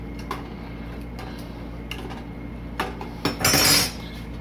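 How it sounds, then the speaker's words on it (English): Noodles stirred in a pot of water to keep them from sticking: scattered utensil clinks against the pot, growing into a louder burst of scraping and clatter near the end, with no talking. "I am big on stirring it around to keep it from sticking"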